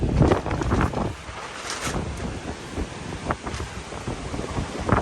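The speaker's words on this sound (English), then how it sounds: "it's just way too windy to try to record anything" Strong spring wind gusts on a mountain farm buffeting the microphone, loud roaring rumbles that surge and ease in uneven waves with no voices.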